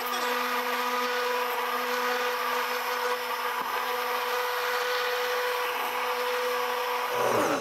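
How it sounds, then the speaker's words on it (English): A blender whirs steadily at high speed, a constant loud motor hum with a dense grinding texture, rising slightly in pitch at the very end. "You may need to adjust the speed of your blender."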